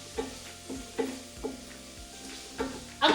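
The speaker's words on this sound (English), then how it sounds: "So now I'm just sweating down my onions." Onions sweat in a pan with a low, gentle sizzle, punctuated by regular knocks and scrapes of a utensil against the pan every half second or so, close and fairly quiet.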